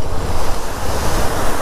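A waterfall pours steadily on a roadside ride route, a continuous loud broadband rush of falling water with wind buffeting the microphone, no voices.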